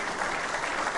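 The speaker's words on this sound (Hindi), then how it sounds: "तालियां बजाकर जोर से उनका स्वागत करें" Audience applause welcoming a guest at a legal quiz show event, a brief burst of steady clapping from a crowd in a hall.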